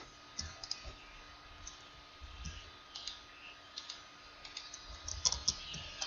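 Computer mouse clicks in a Minecraft mod showcase, a series of light, sharp taps scattered irregularly with a denser cluster of quick clicks near the end, close and fairly quiet with no talking.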